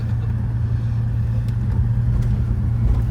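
A Reliant Scimitar fitted with new coilovers driving along a road at some speed, a steady low engine hum and road rumble with faint bump thuds, close and continuous.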